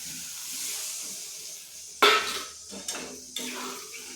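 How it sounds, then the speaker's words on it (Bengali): Water splashes into a hot pan of mushroom curry with a sharp burst of hissing and clatter, then a few softer splashes and metallic knocks follow in a quiet kitchen. "আমার মতন একটু রান্না করে থাকলে আমি এবার জল দিয়ে দিচ্ছি"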